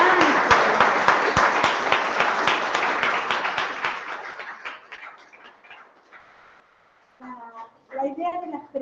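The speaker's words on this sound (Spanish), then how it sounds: "yo creo que un aplauso gigante." An audience at a talk series gives a big round of applause, loud crisp claps at first that thin out and fade over several seconds before a voice begins speaking.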